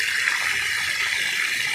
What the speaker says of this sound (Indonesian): kemudian kita tutup keran ini dan akan naik airnya ke